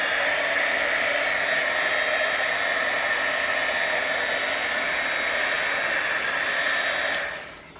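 A heat gun blows a steady, loud, whooshing roar while heating WoodUbend moulding on a bench, then shuts off and winds down at the end.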